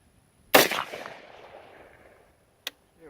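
A single sharp rifle shot cracks loudly up close at a shooting range and rolls away in a long decaying echo, followed by a brief fainter click-like snap.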